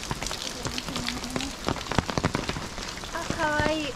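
Rain falls at Cape Ashizuri on the coast of Shikoku, a steady patter on surfaces with scattered drips and splashes close by, partly under voices talking and a short whistle-like tone near the end.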